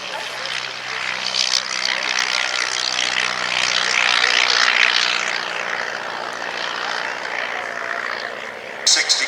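A Miles Martlet propeller aircraft flies in a handicap air race at an airshow, with a steady, moderately loud engine drone that swells and fades slightly as it passes.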